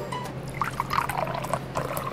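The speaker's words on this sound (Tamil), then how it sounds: "ஸோ 2 ஸ்பூன் தண்ணி ஊற்றிடலாம்." About two spoons of water are poured into a mixer grinder jar, giving a soft, close trickle with small splashes and drips for a couple of seconds.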